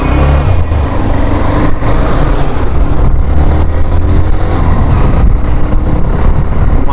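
A Hero Xtreme 125R motorcycle pulls off on a city ride. Loud, continuous engine drone is heavily mixed with buffeting wind rush, close and unbroken throughout.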